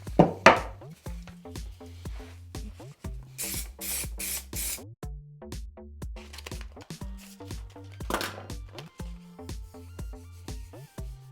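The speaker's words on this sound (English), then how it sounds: "we're gonna take our printed template with some spray adhesive, attach it to the front" Spray adhesive hisses in several short, loud bursts as it coats a printed paper template for a woodworking box project, with clattering workshop handling sounds in between.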